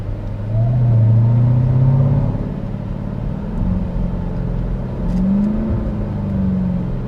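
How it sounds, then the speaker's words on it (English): Loud, close engine note of a 2021 Dodge Durango SRT Hellcat with a supercharged V8, rising in a revving surge then settling and climbing again as it pulls through gears, steady deep rumble throughout. "I'm gonna really truly miss the V8 sound, especially with the supercharged whine."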